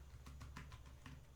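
Quiet run of computer keyboard keystrokes, about six or seven light clicks in quick irregular rhythm, close and alone.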